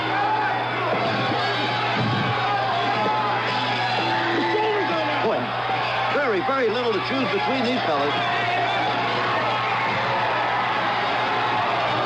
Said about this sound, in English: listen to that crowd in the Veterans Auditorium in Petaluma. They're cheering for the man with his back to you